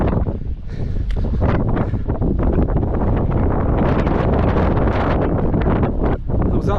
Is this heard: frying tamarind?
no